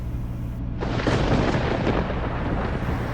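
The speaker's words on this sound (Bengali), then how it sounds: "সিংহের গর্জনের মতো গুরু গম্ভীর মেঘের আওয়াজ" A heavy roll of thunder swells up and rumbles on, deep and sustained, growing louder before slowly settling.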